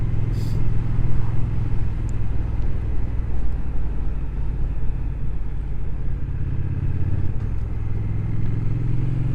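A 2025 Triumph RS1200 Speed Twin motorcycle engine runs steadily at riding speed, a loud low throbbing drone with wind rush and a slight shift in pitch partway through, with no talking.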